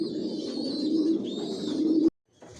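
Adult Johnson-line racing pigeons coo together in a loft, a dense, steady murmur of low throaty calls with faint higher chirps above, loud and continuous before cutting off abruptly near the end.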